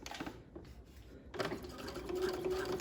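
A sewing machine stitches through fabric and lining on a slashed pocket, starting and stopping in short bursts before settling into a steadier, faint mechanical whir.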